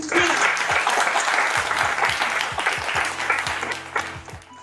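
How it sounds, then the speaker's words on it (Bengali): An audience at a Saraswati Puja event claps steadily for several seconds, a close, dense applause that gradually thins out toward the end, with voices murmuring underneath. "তাহলে আরো একটা সবাই মিলে যদি হাততালি করতে"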